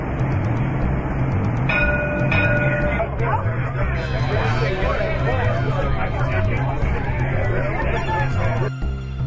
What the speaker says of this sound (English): Streetcar exiting Metro Center